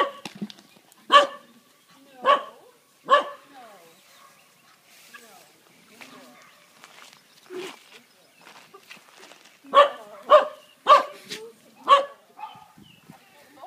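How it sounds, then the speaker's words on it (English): Several dogs at an elephant nature park in Chiang Mai bark in short loud bursts, a cluster early and another near the end, with quieter shuffling and distant sounds in between. "Well, Babs, I'm not sure whether it's you that's finally kept the dogs quiet."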